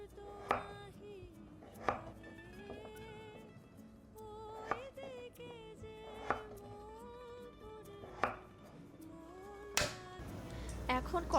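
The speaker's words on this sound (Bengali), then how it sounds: "একটা আলুও চৌকো করে কেটে নিব।" A knife chops peeled papaya and potato into pieces on a cutting board, with sharp, evenly spaced strikes about every two seconds and a faster cluster of cuts near the end. Soft background music plays quietly underneath.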